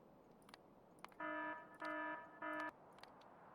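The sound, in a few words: alarm signal in the video game Factorio (Krastorio 2 mod)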